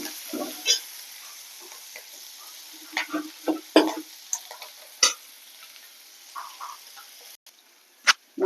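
Onion, green chili, carrot and curry leaves frying in a pan with toasted lentils, a low steady sizzle broken by scattered scrapes and clacks of a stirring spoon, close and fairly quiet with no talk.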